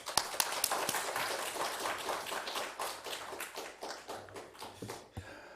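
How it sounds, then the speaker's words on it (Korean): A church congregation at a Korean deacons' dedication worship service claps steadily to welcome the pastor, a dense burst of many hands that runs for several seconds before tapering off. "박수로 환영합니다"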